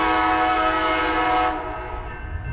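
Southbound Amtrak train number 11, the Coast Starlight, arriving at Martinez, California, sounds its horn: a loud, close, sustained multi-tone blast that cuts off partway through, leaving a rumbling rail background.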